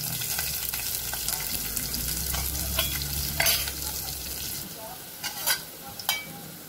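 Green chilies and ground garlic fry in hot oil for a potato and cluster bean curry, giving a loud, steady crackling sizzle, then stirring clinks and scrapes as the frying quietens.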